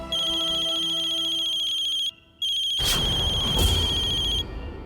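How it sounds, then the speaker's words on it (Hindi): A loud electronic phone ringtone plays a steady melodic pattern, briefly pauses, then continues over a rush of background noise before cutting off. "पल्लवी चाची का फोन"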